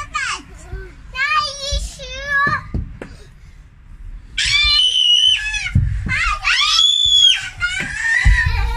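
High, piercing screams from young children rise and fall in long bursts, several voices overlapping in an indoor space, with a brief lull midway.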